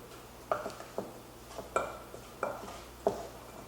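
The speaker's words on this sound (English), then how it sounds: "So mix that together." Spoon stirring a mascarpone cream mixture in a bowl, giving soft scraping sweeps and five or six light clinks against the side at an uneven pace, quiet and close with nothing else going on.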